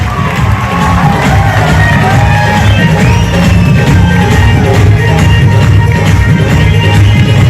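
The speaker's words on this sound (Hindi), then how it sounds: "अभी तक की सबसे जोरदार ताली हल्ला म्यूजिक सिटी के साथ" A large audience at a business event cheers, whoops and shouts loudly and without pause, a dense roar of crowd noise with music faint beneath it.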